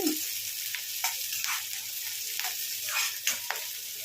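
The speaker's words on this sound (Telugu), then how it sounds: "ఉల్లిపాయ అయితే ఇలా వేగాలి" Sliced onions frying in oil with green chilli and curry leaves for a bitter-gourd tamarind curry, a steady close sizzle broken by periodic crackles and stirring strokes.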